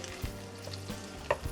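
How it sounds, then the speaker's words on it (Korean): A hamburger steak patty fries in a pan over medium heat, giving a low, steady sizzle with a couple of brief sharper clicks and pops near the end. "노릇노릇 구워주시면 됩니다."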